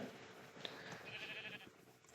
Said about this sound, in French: Il y a des moutons